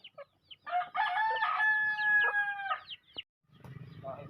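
A rooster near a chicken coop lets out one long, loud crow up close, lasting about two seconds, with a few short clucks before it and faint farmyard rustling after.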